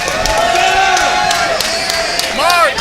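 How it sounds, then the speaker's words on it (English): Large crowd cheering and whooping at a Masters Male Stage 2 ninja competition at the 2024 World Ninja League Championships, a steady loud roar of voices with rising shouts throughout. "A lot of people cheering for him, wanting him to do well"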